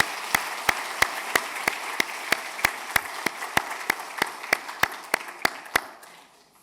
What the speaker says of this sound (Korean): 큰 박수로 격려해 주시겠습니다.